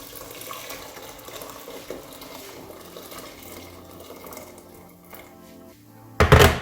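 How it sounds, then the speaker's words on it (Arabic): Heated water poured into a cooking pot while making Greek-style stuffed aubergine with orzo, heard as a short, loud gush of pouring near the end after a low stretch of quiet kitchen background. "وغادي نزيد ان شاء الله هذاك الماء اللي سخنت"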